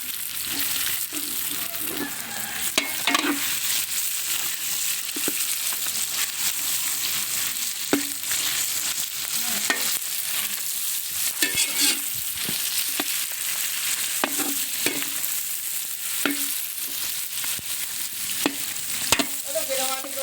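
Garlic and onion sauté noisily in a pan for a provincial spaghetti dish, a dense steady sizzle broken by frequent sharp scraping and clacking stirs throughout.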